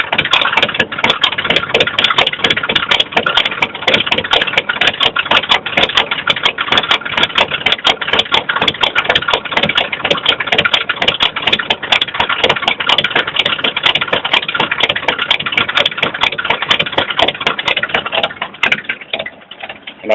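Black Ford 4x4 truck with a 250 engine idling after a cold start, a steady, loud, rumbling drone with a dense rattling texture that runs unbroken and tapers slightly near the end.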